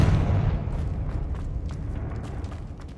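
A Confringo blasting spell explodes in Hogwarts Legacy, a loud low boom that rumbles on with crackling debris for several seconds, no voices over it.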